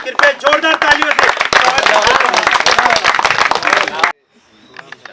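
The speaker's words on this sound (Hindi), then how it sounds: "कृपया जोरदार तालियों से" Loud, enthusiastic audience applause at a Hindi Diwas cultural evening greets a ghazal reciter, a Hindi literature research scholar; dense clapping runs for about four seconds, then stops abruptly, leaving faint sound behind.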